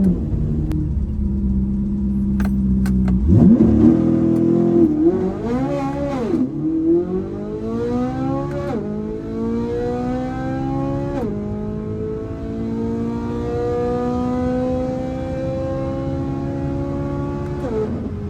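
A Chevrolet C8 Corvette Z06 launches hard down a drag strip, its engine rumbling at the line, then revving up through a series of rising gear pulls, each shift breaking the climbing howl, loud and close throughout.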